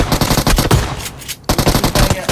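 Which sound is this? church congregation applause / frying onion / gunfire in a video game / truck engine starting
gunfire in a video game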